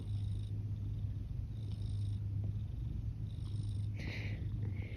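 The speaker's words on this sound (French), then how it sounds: "Je sais pas si vous entendez qui ronronne." A pet cat named Princesse purrs steadily and close, a continuous low rumbling drone with faint background noise and no talking over it.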